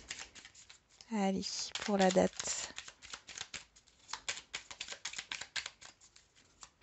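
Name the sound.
cards being shuffled and drawn for a card reading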